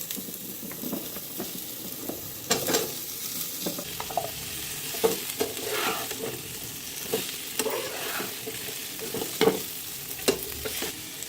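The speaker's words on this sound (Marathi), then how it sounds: "हे सगळं छान तेलावरती परतून झालं की मग शेवग्याच्या शेंगा घातल्या" Drumstick pods with ginger-garlic paste sauté in hot oil, a steady soft sizzle broken by repeated scraping and clacking stirring strokes, heard up close.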